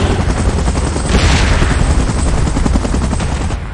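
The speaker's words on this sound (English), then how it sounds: "Chopper in position." A helicopter in PUBG Mobile, in a battle with Mechagodzilla, Kong and Godzilla, moves into position. A dense, loud rotor thump and roar runs throughout, mixed with heavy rattling gunfire-like bursts and booms.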